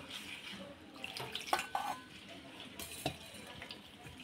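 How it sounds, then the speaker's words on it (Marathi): One bowl of poha (flattened rice) is rinsed in water in a home kitchen, giving soft sloshing and stirring splashes with a few light clinks of a utensil against a bowl, fairly quiet and close. "निवडून असे 1-2 पाण्याने धुवून घ्यायचे"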